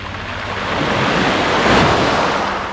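Sea waves roll onto the shore near Cape Palliser in one loud, close surge that swells and recedes, mixed with wind buffeting the microphone.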